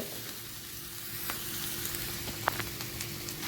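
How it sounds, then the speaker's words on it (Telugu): Turmeric and asafoetida frying in hot oil with ginger-garlic paste for a bitter gourd and tomato curry, a steady close sizzle with light crackles and a single sharp tick, no speech. "ఒక చెంచాడు పసుపు అర చెంచాడు ఇంగు ఇలా మొత్తం పచ్చి వాసన పోయేదాకా గోలించుకోవాలి"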